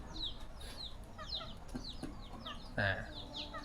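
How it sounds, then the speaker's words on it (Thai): Chickens cluck in a rural village, a run of short, faint clucks and chirpy calls with one brief louder burst, some distance away, without talking. "เทิงมีไก่ขึ้นเลย"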